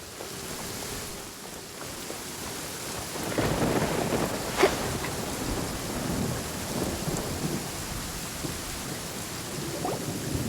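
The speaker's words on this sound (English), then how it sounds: "Where is the storm headed?" A Genshin Impact thunderstorm: steady heavy rain hiss with a deep rumbling roll of thunder swelling midway and a sharp crack near the peak, continuing under the downpour.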